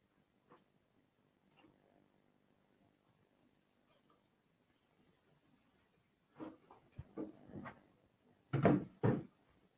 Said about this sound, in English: Let's pull that drawer back over here.